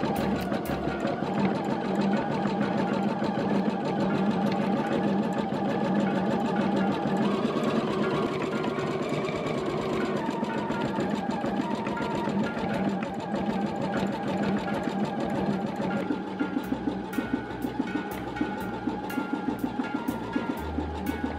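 An EverSewn Hero embroidery machine stitches a patch in a steady, rapid mechanical rattle that runs unbroken for the whole stretch, close and even, with no voices.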